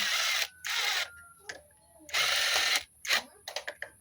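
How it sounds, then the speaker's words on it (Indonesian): Bolts on a Honda Grand/Supra clutch plate are tightened with a hand tool or driver, heard as several broad ratcheting and whirring bursts, each under a second, with short clicks near the end and no talk. "ini untuk pengencangan baut pair koplingnya itu harus seimbang biar nggak patah"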